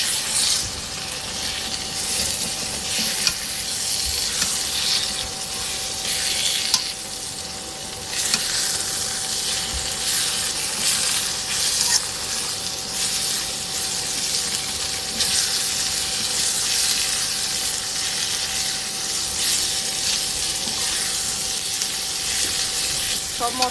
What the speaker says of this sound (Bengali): আদা বাটা, রসুন বাটা, এই যে সব মশলা দিয়ে এখন কষাই নেব।